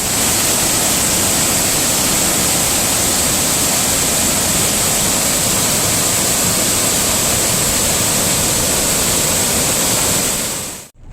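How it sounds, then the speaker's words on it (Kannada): Heavy monsoon rain pours down in the hills near Kudremukh and Kalasa, a loud, dense, unbroken roar that fills the scene with no voices before it cuts off abruptly. "ಆದರೆ ಮಳೆ ಜೋರು ಬರ್ತಾ ಉಂಟು"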